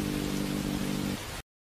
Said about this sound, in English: why is it raining at this time? It will rain harder and harder.